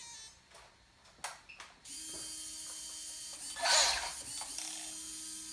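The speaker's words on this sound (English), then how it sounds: "And this servo is just spinning." Steering servo for a Team Associated SC10 RC truck, broken and spinning on a bench, gives a steady mechanical whir with gear chatter and a brief louder grinding surge, preceded by a few clicks, close and alone.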